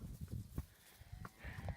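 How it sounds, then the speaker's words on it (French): Cows gathering around someone on a farm in the Brazilian countryside, with low lowing calls and shuffling close by, faint and intermittent over light ambient noise. "Regardez, les vaches, elles viennent toutes me voir."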